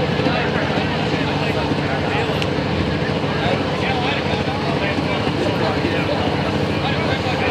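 International 1086 tractor in a 9000 lb light limited pro stock tractor pulling event, its engine roaring loud and steady at high RPM throughout, a dense continuous drone with crowd noise.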